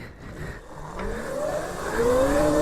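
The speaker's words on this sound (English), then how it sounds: "Here we go, full throttle on full power now" A custom-built electric mini dirt bike, capable of about 60 mph, pushed to full throttle: a motor whine climbs steadily in pitch and grows louder, close by and with no talk.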